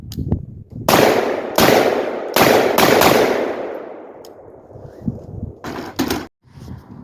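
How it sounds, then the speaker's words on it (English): Davidson Defense AR-47 rifle with a 16-inch barrel fired at night, loud close shots in an uneven string of about eight, each followed by a long ringing echo decay. "now I'm going to go with the Davidson Defense AR-47"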